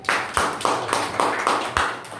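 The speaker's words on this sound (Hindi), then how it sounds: "ताली मारो भाई बच्चे के लिए" A church congregation claps in a steady rhythm for a child during a worship service, about seven even claps in two seconds, loud and close with no talking.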